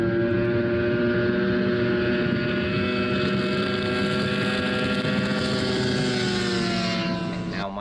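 A 13-foot Critchfield race boat roars past with a loud, sustained high-revving outboard engine whine, the droning pitch shifting slightly as it runs near and steady throughout.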